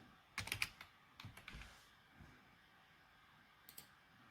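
Keystrokes on a computer keyboard while entering a search for EKS in the AWS console, a quick burst of clicks followed by a few scattered taps and a lone pair of late presses, close and fairly quiet with no talking.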